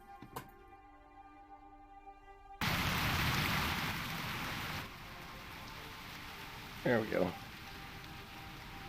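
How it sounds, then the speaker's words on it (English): Rain from the video game Turtle WoW starts as a steady broadband hiss, loud at first, then settling to a softer patter, with a brief voice speaking near the start and a short vocal burst later. "I like my rain."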